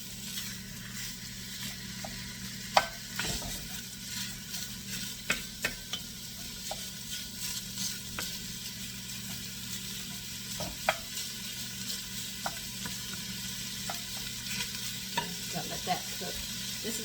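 Sausage and peppers frying in a pan with a steady low sizzle, punctuated by occasional scrapes and clicks of stirring, with no talking.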